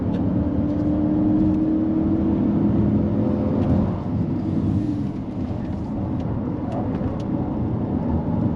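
A Chery Tiggo 8 Pro fan car climbs the Genting hillclimb under hard acceleration, its engine roaring loud and steady with tyre noise from wheel spin, close and continuous, easing slightly midway before pressing on.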